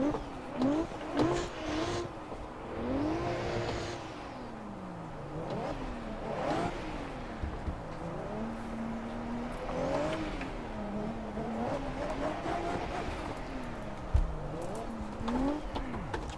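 A 500-horsepower Lexus GS300 in the Assetto Corsa racing game revs and shifts, engine pitch sweeping up and down repeatedly through gear changes in a steady, loud drone with no talking.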